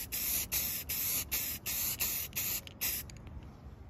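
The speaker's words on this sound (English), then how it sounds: "I'll shoot a little black paint on this back side" Black spray paint applied to axle hardware for a 1978 Dodge Power Wagon: about seven short hissing spray bursts in steady rhythm, close and fairly loud, then quieter sputters.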